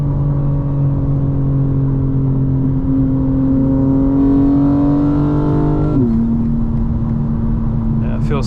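A 900-horsepower 2025 BMW M4 Competition xDrive with a full suite of SPL parts pulls hard, its engine drone climbing steadily in pitch before a sharp shift drops it, then building again, loud and close from inside the car.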